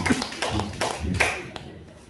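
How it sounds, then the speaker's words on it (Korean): A church congregation gives a short burst of clapping, several loose, uneven rounds of hand claps indoors, close and moderately loud, fading out within about two seconds. "우리 박수 한번 쳐주시고."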